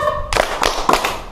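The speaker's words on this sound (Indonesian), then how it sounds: "Tepuk fokus dulu lah, ya biar tambah fokus" Children doing the tepuk fokus clapping routine, a few sharp rhythmic claps in quick succession, close and loud, with a brief voice beforehand.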